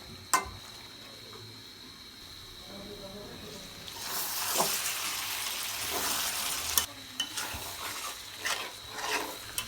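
Potatoes are stirred into beef tripe curry in a pot, with a rising hiss of frying and a few sharp clanks from the spoon against the pot, close and moderately loud.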